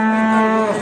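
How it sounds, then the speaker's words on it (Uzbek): Cattle at the Xo'jaobod livestock market in Andijan, where pedigree bulls and cows are traded, give a single sustained moo, loud and close, with no talk over it. "bu yerda ham zotdor chiroyli buqalar nihoyatda ko'p ekan"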